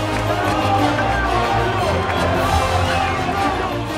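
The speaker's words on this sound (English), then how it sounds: "The crowd's going crazy." A crowd cheers at a SailGP sailing race as Spain makes a comeback, a steady loud roar of voices with low rumble underneath.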